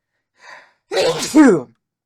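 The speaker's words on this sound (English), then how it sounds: "I had to sneeze." A sharp intake of breath followed by one loud, close sneeze.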